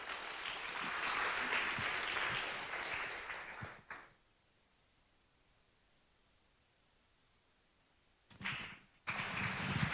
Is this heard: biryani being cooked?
no